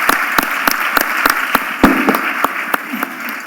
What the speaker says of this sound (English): can I invite you to show them your appreciation by applauding them?